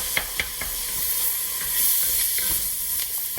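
Meat sizzles and steams in a roux in a pot for lima beans, a steady close hiss with a few soft clinks and stirring scrapes, with no talking.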